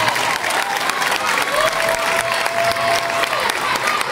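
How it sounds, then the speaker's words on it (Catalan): A crowd claps steadily and loudly throughout at a Cucafera de Tarragona casting event, dense applause with a faint tone rising briefly in the middle. "Molt bé, un aplaudiment."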